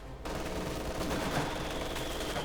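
A Maxim machine gun fires in Company of Heroes 2, a dense, continuous rattle of rapid shots filling the whole stretch at moderate volume.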